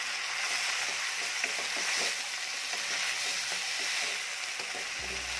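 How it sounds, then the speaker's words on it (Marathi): Soaked toor dal fries in hot oil for a safflower-leaf vegetable dish, giving a continuous, even sizzle up close with faint stirring and no talking. "यामध्ये थोडीशी डाळ आपण परतून घेणार आहोत तेलामध्ये डाळ जरा परतली की चवीला छान लागते"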